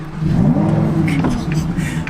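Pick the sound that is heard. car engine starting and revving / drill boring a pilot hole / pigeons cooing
car engine starting and revving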